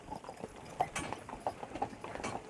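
Horse-drawn carriages clip-clop past a castle in Germany or Austria in December, the hooves striking in a quick, regular rhythm close by with no talk over them.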